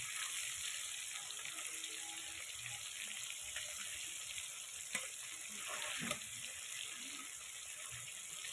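Thin pieces of fish fry in hot oil with a steady, close sizzle and crackle throughout, with a few brief louder pops and no voices.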